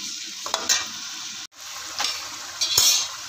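Tomatoes cooking down in a pan for achar gosht, a close steady sizzle broken by a few spoon scrapes and clinks against the pot, fairly loud with no talking.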